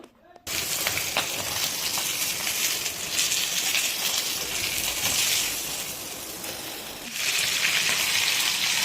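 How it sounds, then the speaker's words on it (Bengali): Pieces of rohu fish head fry in a pan with a loud, steady sizzle and faint crackling that eases briefly before rising again near the end. "মাছের মাথার যে টুকরোগুলো রয়েছে এগুলোকে ভেজে এখন আমরা রেখে দিচ্ছি।"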